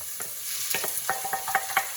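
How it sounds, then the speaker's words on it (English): Onions and celery frying in olive oil in a pan: a steady close sizzle with soft scraping and stirring knocks, and no talking. "So they start with some olive oil in the pan, right? And then they put on their onions, okay?"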